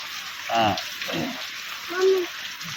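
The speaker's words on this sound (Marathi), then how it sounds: "परत परत पाऊस आला" Rain falls steadily as a soft, constant hiss, heard close by under brief bursts of people talking.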